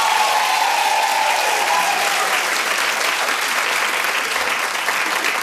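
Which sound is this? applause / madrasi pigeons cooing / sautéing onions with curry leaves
applause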